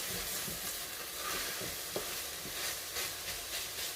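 Tomato paste frying in a pan for a minced-meat lasagne, a soft continuous sizzle broken by stirring scrapes and a single sharper clink.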